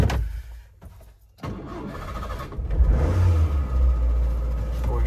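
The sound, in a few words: car engine cold start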